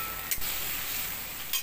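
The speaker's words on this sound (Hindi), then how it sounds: "इनमें मैंने बारीक कटी हुई प्याज डाल देंगे। इनको अच्छे तरह भून लेंगे" Finely chopped onions fry in a pan for egg masala curry, a steady soft sizzle running throughout with two brief stirring scrapes, fairly quiet and alone.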